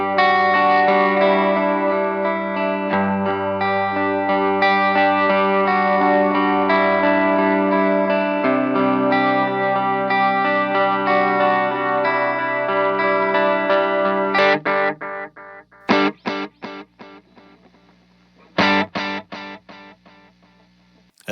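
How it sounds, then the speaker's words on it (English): An electric guitar runs through a digital delay pedal. Sustained chords ring with full-range repeats, then give way to sharp strummed stabs that stop abruptly and leave gaps, with no talking. "As digital delays go, it sounds good"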